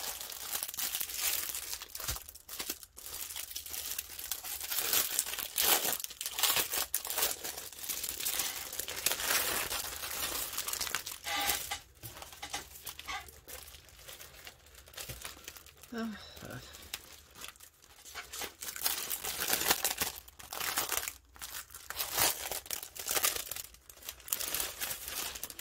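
Decoupage paper being handled and crinkled in a papercraft session, with rustling and crackling bursts recurring throughout alongside intermittent talk.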